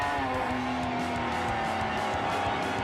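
A Greenwood Corvette race car roars past at close range on a racing circuit, a loud sustained engine howl with shifting pitch over about three seconds.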